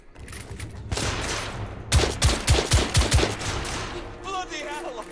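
Rifle fire in The Order: 1886, a rapid volley of loud, sharp gunshots in a steady rhythm over battle noise, with a shouting voice at the end.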